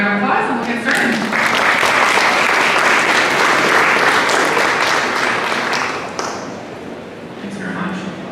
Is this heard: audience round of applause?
yes